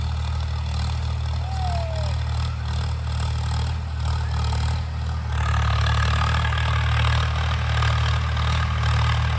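A Swaraj 855 tractor engine gives a steady low rumble throughout at a constant idle, with a brief rising whine early on and a slight shift in tone midway.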